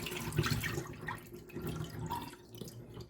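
Rice is rinsed in water, with splashing, sloshing and dripping in uneven bursts, fairly quiet and close, with nobody speaking.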